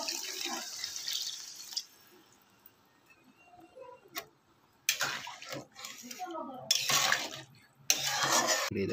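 Water splashes into a pan of potato and besan curry as it cooks, coming in several loud, rushing bursts separated by quieter stretches, with a person talking in between.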